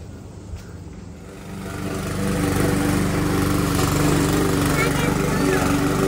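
Lawn mower cutting grass at a house, the engine drone rising in the first two seconds then holding a steady loud hum, with a voice speaking briefly early on.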